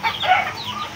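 Chickens on a gamefowl farm cluck close by, a busy overlapping flurry of short calls from several birds with no one talking.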